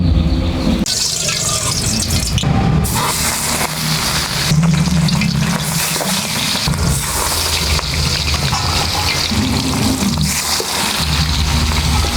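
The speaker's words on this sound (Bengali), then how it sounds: "এবারে মাছটাতে অল্প নুন আর হলুদ মাখিয়ে ভেজে নিচ্ছি।" Ring-cut pieces of mrigal fish coated in salt and turmeric fry in hot oil, giving a loud, close, steady sizzle with crackling bursts and occasional shifts as pieces are moved, with no talking.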